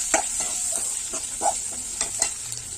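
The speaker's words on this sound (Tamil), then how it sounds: "நல்லா கிண்டி விடுங்க." Dried fish frying in oil with chili powder sizzles steadily while a spoon scrapes and stirs through it in repeated short strokes, close up, with no talking.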